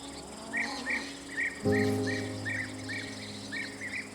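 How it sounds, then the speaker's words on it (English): Repeated high bird chirps sound at a steady rhythm over a low background hum that grows louder partway through, with no voices, at a cliffside off-grid home. "We can listen to the birds when we wake up"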